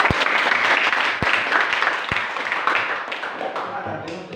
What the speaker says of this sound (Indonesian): Ya, tepuk tangan dulu untuk semua.